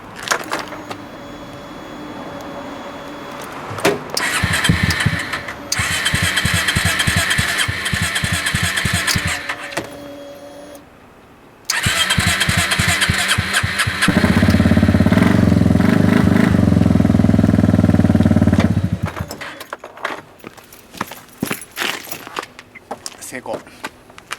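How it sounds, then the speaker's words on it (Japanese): A MAXAM scooter, its battery just replaced, cranks and catches, then settles into a steady idle with revving and key or handling clatter around it. Brief bursts of background talk come and go. "ちょっとエンジンかけてみましょうか。"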